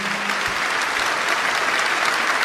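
A church congregation gives a loud, steady round of applause, dense clapping filling the room without pause for the whole moment.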